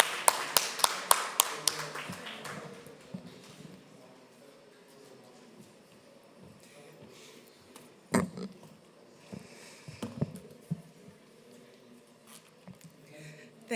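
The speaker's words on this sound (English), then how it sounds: "Please, big applause for Jamila" Applause from a conference audience welcoming a minister to the podium, a quick run of sharp claps at first that thins into scattered, fainter claps and hall murmur with a few late isolated claps.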